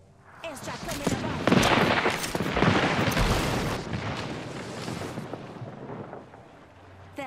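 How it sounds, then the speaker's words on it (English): An airstrike in the game Apex Legends pounds the area with a dense, rumbling barrage of blasts and crackling fire that swells, holds for several seconds and then fades. "Airstrike coming above."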